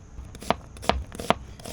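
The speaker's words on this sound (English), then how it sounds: "now we'll get everything chopped up for our sauce" A knife chopping sauce ingredients on a flipped cutting board, three crisp evenly spaced chops close up over a faint background hum.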